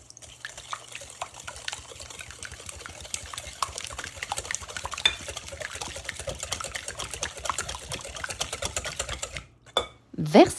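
Rapid, steady clinking of a whisk against a bowl, beating eggs with lemon juice, runs continuously, with a few louder knocks and a brief pause near the end.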